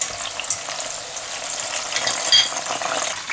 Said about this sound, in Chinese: 这小葱小火慢炸，咱给它炸到微黄